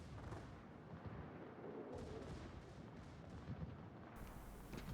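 Secondary guns of a warship firing in World of Warships, a dense rumbling barrage of repeated booms and blasts running continuously at moderate loudness with no voices.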